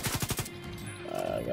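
A gun turret in the video game The Division 2 fires a quick burst of about five close, punchy shots, then fades into a low electronic hum and a rising tone.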